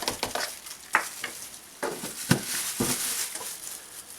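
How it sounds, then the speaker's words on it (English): Meatballs sizzling and spattering in a hot pan, with intermittent clacks and stirring knocks over a steady hiss, close by and without talk. "I want them to start to sizzle a little bit as soon as I put them in there."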